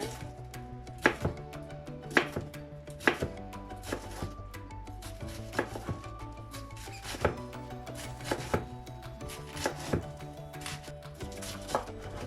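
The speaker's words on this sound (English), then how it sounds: "So I will slice it the same way as I chop the onion." Knife slicing vegetables for okonomiyaki on a cutting board, a series of about a dozen crisp chopping knocks at a fairly regular, unhurried pace, close but soft, with no speech.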